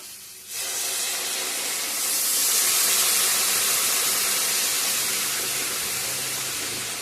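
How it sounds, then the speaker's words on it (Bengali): Hot water is poured onto fried masala in a hot pan, setting off a sudden loud hissing surge of steam and sizzle that swells and then slowly settles into a steady bubbling hiss. "জল অ্যাড করে দিয়ে দেব,"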